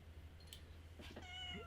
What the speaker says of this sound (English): my cat wants to get up here